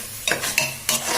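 Rice stirred with spices in a pressure cooker for khichuri, with three scraping bursts of the spoon against the pot over a low frying hiss, close and fairly quiet.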